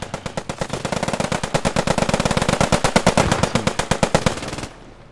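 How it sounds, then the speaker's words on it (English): Rapid machine gun fire in a World War II shooter game, a long unbroken burst of fast, loud, evenly spaced shots lasting several seconds before cutting off abruptly. "He's under fire of the MG."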